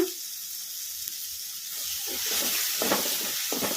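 Turmeric powder goes into a mixture frying in oil, a soft, steady sizzle that grows a little louder partway through, with faint stirring scrapes and spoon knocks near the end.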